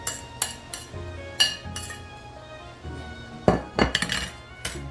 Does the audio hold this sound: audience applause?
no